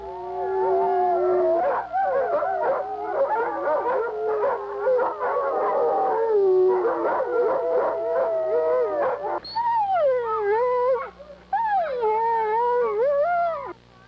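Sled dogs in a dog yard howl together in a loud, sustained chorus of overlapping wavering voices, swelling and falling, then a few dogs continue with rising and falling howls after a brief pause.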